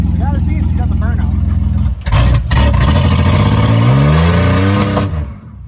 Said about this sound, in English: We gotta see if she got the burnout.